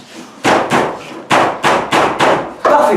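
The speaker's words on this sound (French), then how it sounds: "Le marteau." Hammer blows at a building site, seven sharp, loud impacts in an uneven rhythm, each one ringing out briefly before the next, with no voices.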